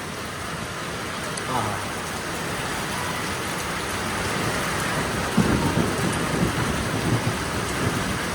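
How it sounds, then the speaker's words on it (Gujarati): Heavy rain pours steadily during a windy seasonal storm, a dense hiss broken by low thunder rumbles, with a voice faintly present beneath it. "કડાકા ભડાકા વીજળીના"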